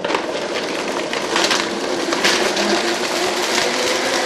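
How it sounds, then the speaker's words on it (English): A kitchen blender runs steadily and loudly while blending sauce ingredients for a peppered dish, giving a dense, unbroken whirring roar with no voices. "We're going to put the blender on there."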